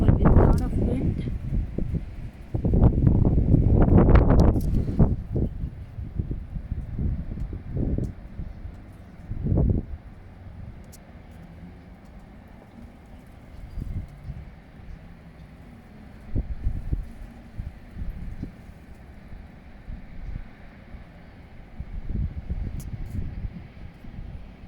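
Strong wind blowing outdoors in Calgary on a cloudy winter morning, heavy buffeting gusts hitting the microphone loudly at first, then a lower steady rush with occasional bursts.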